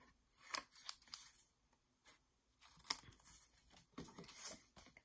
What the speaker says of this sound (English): So I'm just going to cut these real quick.